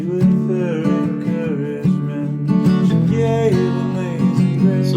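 Guitar picked up by an iPhone microphone pointed at it, playing a loud, steady strummed chord pattern alone with a slightly raw, roomy tone.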